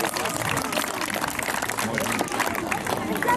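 Applause from an audience at a falconry bird show at Avonturia, dense continuous clapping under crowd noise and a voice.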